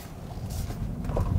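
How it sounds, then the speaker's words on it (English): A 2021 Tesla Model Y electric car driving on the road, heard from inside the cabin as a steady low rumble of road and wind noise that builds slightly, with no engine sound. "now let's go out and drive this Model Y"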